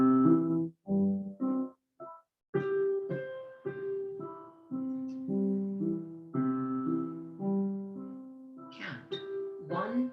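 Piano playing a beginner tutorial song, a simple melody of separate notes in a steady rhythm with short pauses between phrases, moderately loud and close, with no talking.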